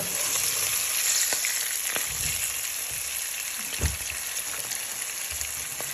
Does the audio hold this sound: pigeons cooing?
no